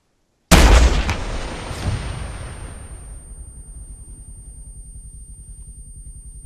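A rocket launcher in Arma 3 fires with a sudden loud blast, then a second thump as it hits, and the booming rumble rolls off and fades slowly into a long low tail.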